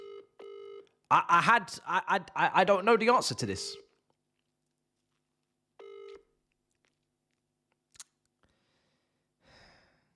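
A telephone keypad sounds in short steady dial tones at the start and again a few seconds later, with someone talking in between and a faint click near the end.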